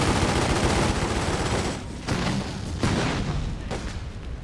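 Loud, dense bursts of gunfire and booming explosions in the PC game The Godfather II crackle continuously, with dull thuds punctuating the barrage.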